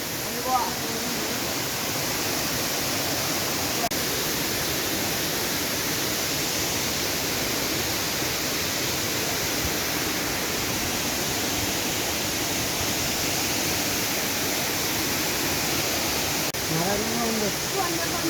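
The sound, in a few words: waterfall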